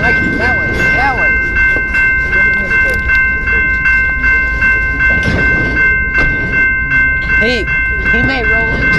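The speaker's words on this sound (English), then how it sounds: "Yeah, it's a train coming in." A BNSF and Ferromex locomotive pair rolls a train in on the rails in Slaton, Texas, rumbling steadily with sustained high whistle-like tones and people talking nearby throughout.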